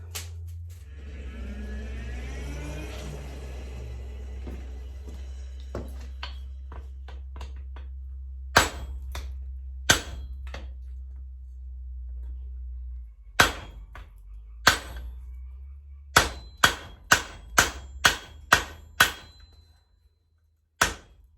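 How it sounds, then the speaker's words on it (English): Sharp metallic hammer strikes ring out while forging a welded eye hammer, sparse at first and then in a quicker run of evenly spaced blows over a low steady hum. "after many tedious and not so accurately placed hammer blows, here we are"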